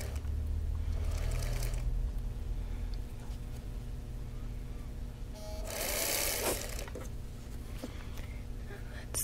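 Sewing machine piecing a laser-cut Wheel of Mystery quilt block, stitching in short close bursts with quiet pauses and handling noises between runs.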